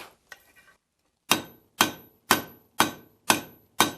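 A blacksmith hammers a hot steel bar on an anvil, rolling it to round it: after a few light taps, six sharp ringing blows land in an even, steady rhythm, close and loud with no talk.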